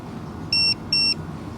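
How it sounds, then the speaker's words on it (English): A Rhino Pro RV leveler switching on gives two short, clear electronic beeps in quick succession over a quiet background hum. "When you turn when you turn it on, it says in the instructions here you should hear 2 beeps."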